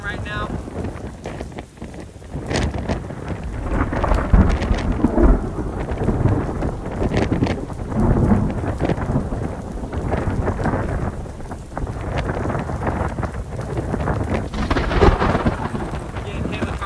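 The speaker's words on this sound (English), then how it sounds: "You can see the downpour that's happening." Thunderstorm over Lake Powell with a heavy downpour, rain hissing steadily on surfaces while gusting wind buffets the microphone and deep thunder rumbles roll in and out, loud and close.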